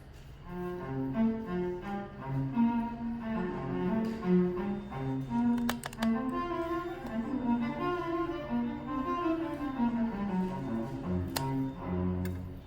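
A cello plays a slow, singing melody alone, its bowed notes warm and connected, close and clear throughout.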